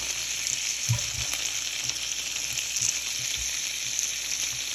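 Marinated chicken shashlik sizzles steadily in a hot pan with a constant hiss of frying oil and a few soft low bumps of the meat shifting.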